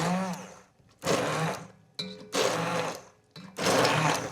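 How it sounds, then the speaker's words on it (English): Blender pureeing a mushroom and onion mixture for cream of mushroom soup, in three loud whirring bursts of about a second each, separated by short pauses, recorded close up in a home kitchen. "I think we're ready to blend away at our mushroom onion mixture."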